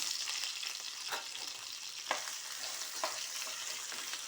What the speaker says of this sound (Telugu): ఇప్పుడు నేను సన్నగా తరిగి పెట్టుకుని ఆలుగడ్డ వేసేస్తున్నాను.